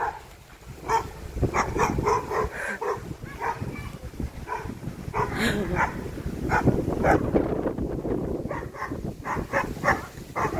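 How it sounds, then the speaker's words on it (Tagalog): A dog barks in short repeated bursts, mixed with higher yips and a whimper, against a busy background with some indistinct voices. "Ay, ang cute ng aso."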